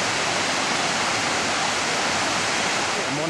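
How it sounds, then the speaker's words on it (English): A cascading waterfall on Laurel Creek near the Gauley River in West Virginia gives a steady, loud, broadband rushing of falling water, close and unbroken throughout, with no voices. "Nice cascading waterfall down here at Laurel Creek"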